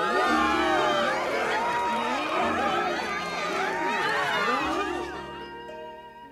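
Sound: crowd cheering in a video game

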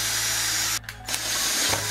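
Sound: power drill drilling out a hole in a car

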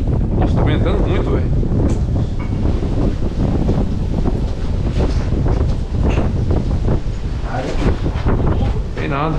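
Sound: strong wind blowing

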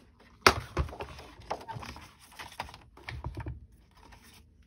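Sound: cutting cardstock

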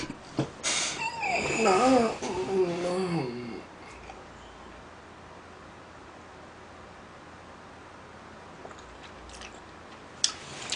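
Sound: chewing and eating dumplings

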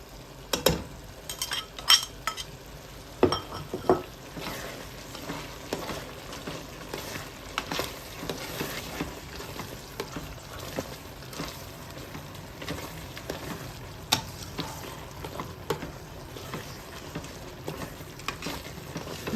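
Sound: stirring onion seeni sambal with chili flakes in a pan

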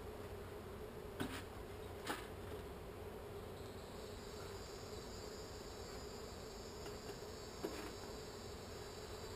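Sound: swarm of agitated bees buzzing around a hive lid

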